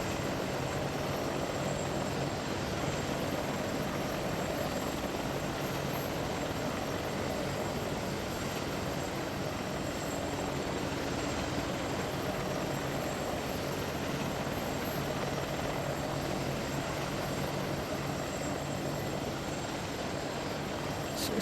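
Rotor and turbine drone of an AH-64D Apache attack helicopter in the Arma 3 game, a steady, dense, continuous roar that holds close and loud throughout with no talk.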